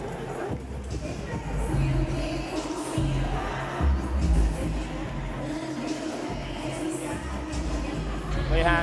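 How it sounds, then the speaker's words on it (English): Early crowd at an MMA prelim fight in the Intuit Dome arena, a broad, steady roar of cheering and murmuring voices filling the hall throughout, with swells of noise rising and falling. "the early crowd here at the Intuit Dome, appreciate the action"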